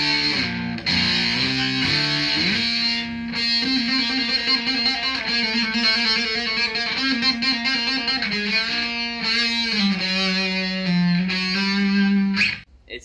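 An electric guitar through a JOYO Husky Drive overdrive pedal set to high plays a sustained, gritty melodic line with held notes and shifting pitches, loud and continuous until it cuts off.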